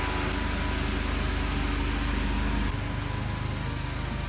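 A Hyundai Sonata N Line (DN8) being pulled into a shop, its engine giving a steady close rumble with a broad whooshing hiss over it and a slight drop in tone partway through, with no talking.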